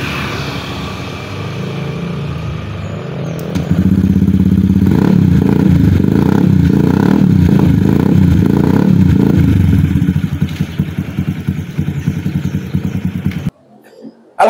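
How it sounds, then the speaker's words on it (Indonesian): Custom Honda Vario 150 cc automatic scooter built into a cruiser bobber, its engine idling close by, then rising to a loud sustained rev for several seconds before dropping back and cutting off. "Honda Vario 150 cc jadi cruiser ala Kojai Garage."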